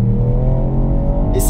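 Ford Puma ST accelerating hard, engine note rising steadily and loud from inside the car, with a short tire or wind hiss at the end.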